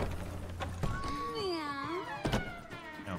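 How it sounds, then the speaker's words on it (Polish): A cat in The Witcher 3 gives one drawn-out, sliding meow, set between a couple of dull thunks against a muffled background. "Miau, miau."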